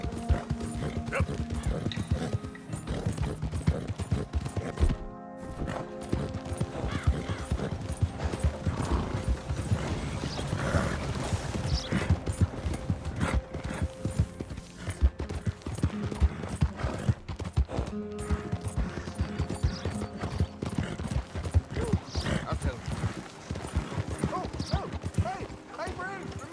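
Horse hooves clip-clop steadily at a walking pace in the Red Dead Redemption 2 video game, sitting beneath game music and a speaking voice for the whole stretch.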